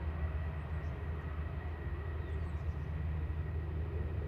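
Constant low rumbling roar of a Virgin Atlantic Airbus A330-300 arriving at Manchester Airport from Atlanta, heard at a distance as an even drone with no talk over it.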